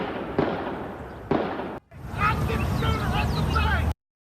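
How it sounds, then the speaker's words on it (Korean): Gunfire from an assault rifle during a shooting at the Old National Bank building in downtown Louisville, Kentucky: two sharp, loud bangs about a second apart, followed by a break and steady outdoor street noise. "시내 한복판에서 총성이 울려 퍼집니다."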